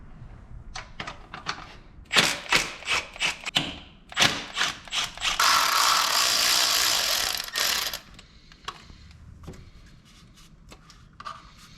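A wrench works on a bolt in the manifold of a Mitsubishi Evo 8 engine, giving bursts of rapid ratcheting clicks and metallic knocks, then a sustained grinding rattle for a few seconds before quieter scattered taps.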